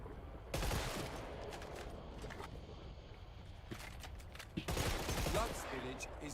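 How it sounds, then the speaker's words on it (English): Gunfire in the co-op shooter Killing Floor 3 sounds as two short bursts of shots, one near the start and one near the end, with quieter game noise in between. "Oh, the gun went off."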